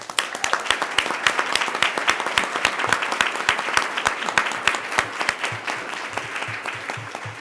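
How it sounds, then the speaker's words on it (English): A crowd applauds steadily, many hands clapping in a dense, sustained burst with a few sharper claps standing out near the microphone. "let's give her a round of applause"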